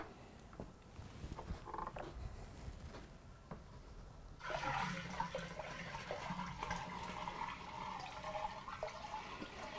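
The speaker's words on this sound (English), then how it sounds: "So now we're going to put the chemical solution in on top of the" Liquid chemical solution poured into a drained pool filter vessel over zeolite media, a quiet trickle that swells into a steady, louder gush of running water partway through.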